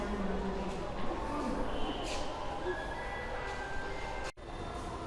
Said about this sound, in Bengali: আমরা দেখতে পাচ্ছি মেট্রো রেল অনেক কাছে চলে এসেছে।